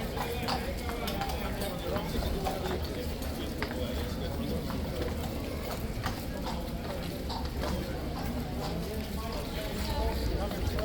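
A reluctant horse on a city street near crowds of tourists clops its hooves in a steady, continuous rhythm, partly buried beneath ongoing talk and street noise.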